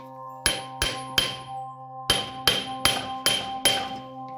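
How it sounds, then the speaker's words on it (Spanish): Seven sharp metallic hammer blows while fitting a wheel-side CV joint, three then four after a pause, each ringing briefly and evenly spaced, close and loud. "se pone aquí en el medio y un martillazo para adentro"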